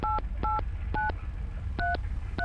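A phone number is dialed in the Mon Bazou video game: six short touch-tone beeps in quick pairs and singles, clear and close over a low hum.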